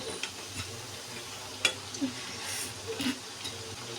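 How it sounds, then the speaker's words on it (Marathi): Chakli dough sizzles while frying in hot oil, a soft steady crackle with a few brief bubbling pops and faint stirring clicks close by. "लाल तळून घ्या बरं का चकली"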